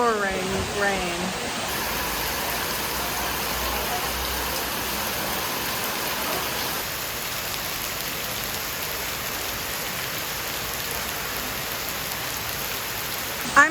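Heavy pouring rain in rural Vietnam near Hue, a continuous dense hiss of drops on surfaces, steady and close throughout, with no talking.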